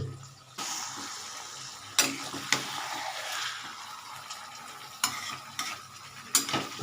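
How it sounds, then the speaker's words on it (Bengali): Marinated chicken frying with browning onions in a pan, a moderate sizzle punctuated by repeated clacks and scrapes of stirring. "এই ম্যারিনেশন করা চিকেনটা আমি ঢেলে দিচ্ছি একসাথে"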